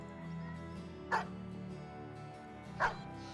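Armored war dogs in the video game Battle Brothers bark twice, two short sharp barks spaced a couple of seconds apart over quiet game background ambience.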